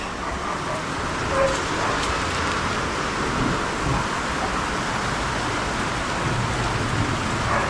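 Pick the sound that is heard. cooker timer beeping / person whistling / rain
rain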